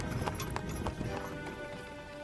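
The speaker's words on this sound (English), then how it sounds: "You hear the sound of wheels and hooves against the cobbles in the yard" Horse hooves and carriage wheels rolling over a cobblestone yard in a video game: a steady, fairly close clip-clop with a rumbling undertone and no talking.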